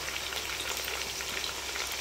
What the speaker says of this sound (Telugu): ఇది మంచిగా గోల్డ్ కలర్ వచ్చే వరకు దీన్ని వేగనిద్దాం.